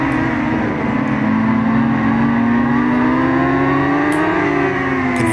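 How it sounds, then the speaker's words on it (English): Pack of racing motorcycles in RIDE 5 during a Le Mans endurance race, a loud continuous engine drone with layered rising and falling whines from several bikes close behind, steady throughout with no talking. "You can hear a whole bunch of bikes behind me."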